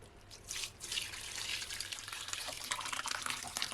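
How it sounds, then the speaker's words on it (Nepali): Whey drains from fresh paneer strained through a thin, clean cloth, making a steady, soft watery trickle with faint dripping that continues throughout, close by and with no voices. "त्यसपछि एउटा पातलो सफा लुगा लिएर पनीर तारिदिए"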